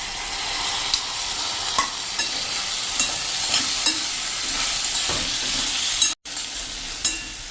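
Chopped ridge gourd sizzles in a pan of frying onions while a spoon stirs it, with regular scraping strokes about once a second over a continuous close hiss and no voices.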